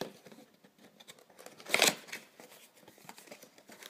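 Quiet rustling and handling noises, then one short, sharp ripping sound as tape is peeled off a figurine's packaging, followed by soft crinkling.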